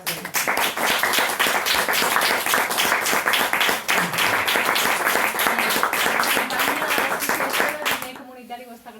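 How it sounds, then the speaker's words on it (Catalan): Dense clapping from an audience at a Catalan talk, sustained and fairly loud across most of the stretch, with speech mixed in, then fading out abruptly near the end. "un fort aplaudiment"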